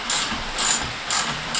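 A hand ratchet clicks in three quick bursts of rapid pawl ticks, loosening a bolt on the fairing of a KPR200 motorcycle; close, crisp and alone.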